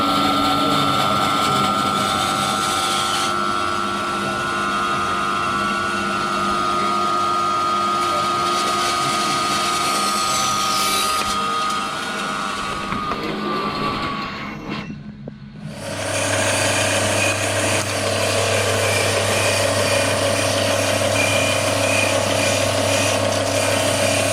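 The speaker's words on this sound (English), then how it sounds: "I'll just use the bandsaw and we'll cut the ends off." A bandsaw cuts the ends off wooden belaying pins, giving a steady mechanical whir with a rattling, ratchet-like texture that runs loud and continuous, dips briefly near the middle, then resumes with a stronger low hum.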